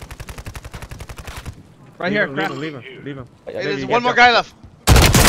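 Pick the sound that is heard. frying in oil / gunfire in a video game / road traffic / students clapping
gunfire in a video game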